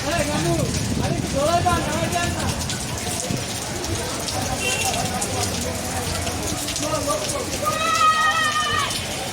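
Rain pours steadily over the Dholaikhal cattle market in Dhaka, a constant dense hiss with people talking and calling nearby over it.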